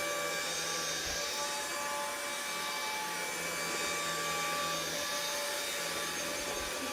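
A small cordless vacuum cleaner hums steadily on its first, lowest setting, a constant airy whir with a faint high whine and no talking.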